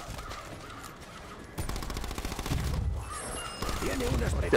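A gun fires in a cooperative zombie video game, bursts of rapid automatic shots that swell louder partway through, mixed with game noise while players talk over it.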